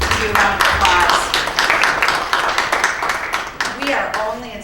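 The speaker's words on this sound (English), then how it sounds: "Give you a round of applause." Audience at a presentation breaks into dense, continuous applause, with overlapping voices mixed in.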